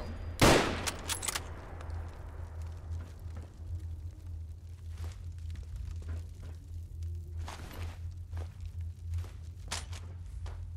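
Bursts of automatic gunfire in the Fallout London video game, with a loud sharp volley near the start followed by scattered shots and quieter movement over a steady low hum.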